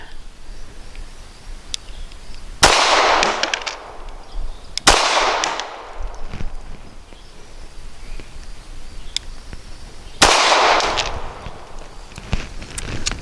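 Shots from a Smith & Wesson Performance Center Shield EZ .380 pistol fired at a lower target on a range, three loud sharp reports spaced a few seconds apart with a few fainter distant pops between.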